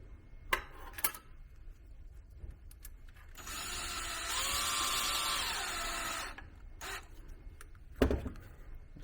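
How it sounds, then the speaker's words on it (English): A power drill fitted with a 2mm hex bit drives 12mm screws into a keyboard build, giving a single whirring run of about three seconds between quieter clicks and handling taps, fairly close and moderately loud. "I like to use a drill just because,"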